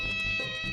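A cat meows in a palace scene of a comedy episode, a short faint cry heard under a steady hum and background music.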